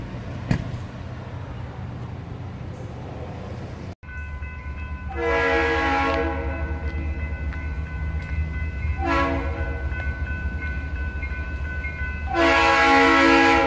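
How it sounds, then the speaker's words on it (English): A train passing on the tracks in Newark, New Jersey, rumbling steadily close by while its horn blasts loudly three times in long sustained blares. "By the train, down there by the train."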